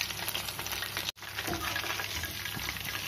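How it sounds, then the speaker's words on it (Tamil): Soya chunks frying in hot oil with curry leaves, a close, continuous crackling sizzle with a brief dropout near the start and occasional louder pops. "நல்லா ஃப்ரை ஆயிட்டு இருக்கு"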